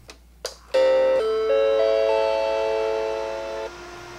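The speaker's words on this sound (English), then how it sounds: "But if you hear the error code" A Macintosh II sounds its startup error chime, a sustained electronic tone sequence of several stepped notes ringing for about three seconds after a couple of faint clicks, then cutting off.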